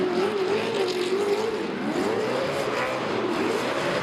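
A D1NZ pro drift car at Baypark in Tauranga, driven by Carl Thompson, screams under hard throttle, a loud sustained engine note rising and falling with revs, close and continuous.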